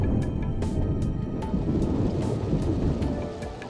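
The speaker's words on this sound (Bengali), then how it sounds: "ঝড় জল বজ্রপাত সব হচ্ছে" Cartoon thunderstorm in a forest, with steady heavy rain and repeated sharp thunder cracks and rumbles over several seconds, loud and close, no voices.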